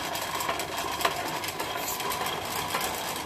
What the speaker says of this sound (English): So right now I am spinning the thread